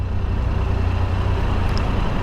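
Steady, loud engine rumble with heavy low-end drone of motorcycles idling and rolling into an enclosed concrete underground parking garage, continuous throughout.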